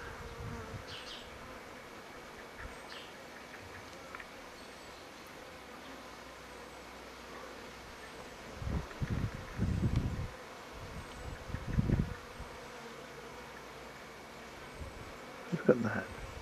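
Bee swarm buzzing in a garden apple tree, a faint steady insect hum in the distance with a few louder close buzzes passing near the end, outdoors and with no talking.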